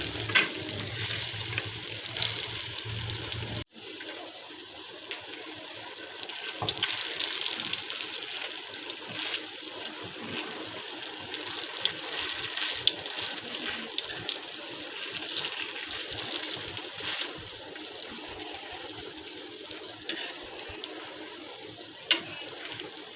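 Kebabs frying in pre-heated oil, a continuous soft hiss and crackle of sizzling that carries on steadily at low volume.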